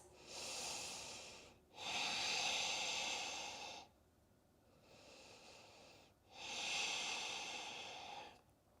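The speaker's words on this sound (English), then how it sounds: "Again, 3 breaths." Close, audible breathing during a yoga power flow: alternating long inhales and exhales, about four breath phases of roughly two seconds each, with no talking.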